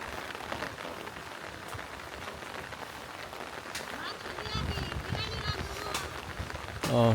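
Steady rain pours down on a village farm with a constant hiss of drops hitting surfaces, growing slightly heavier toward the end; no one speaks.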